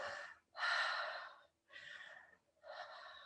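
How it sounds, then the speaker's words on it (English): A person slowly demonstrates deep breathing for calming, three long audible breaths close up, each a soft airy rush separated by short quiet pauses. "I start mimicking the breathing techniques"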